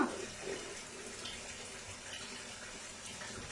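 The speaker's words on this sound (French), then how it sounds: "on va prendre notre verre, je vais le rincer" Tap water runs steadily into a sink while a drinking glass is rinsed, a soft continuous splashing flow with no speech.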